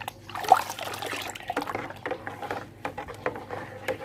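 Liquid fertilizer, two capfuls, poured into water to make a plant feed, heard as close splashing and trickling with small irregular patters, moderately loud and without talk.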